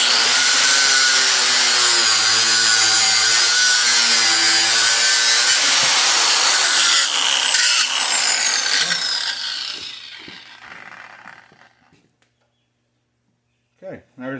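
A power tool cuts through the original steering column of a 1959 Ford F100, a loud, continuous high whine with grinding metal that runs for about ten seconds, then winds down to near silence before a couple of brief knocks.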